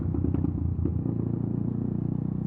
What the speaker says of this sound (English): Oh, look at me and my loud exhaust, aren't I amazing?